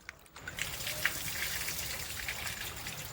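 Food being washed under running water in a home kitchen, a steady splashing gush that starts after a short quiet moment and carries on, with scattered drips and clinks over it.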